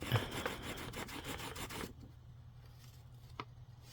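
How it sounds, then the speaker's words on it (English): A Pilot FriXion Fineliner pen's eraser rubbing out scribble marks on paper gives a quick run of rapid, close scratchy strokes for about two seconds. Quiet stillness follows, broken by one small tap. "So you can actually see when I use that eraser, it kind of gets rid of the scribble marks there."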